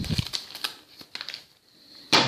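Scissors snip open a small kefir starter sachet of granule powder, giving a few quiet crinkling cuts at close range that end in a louder rustle of the packet.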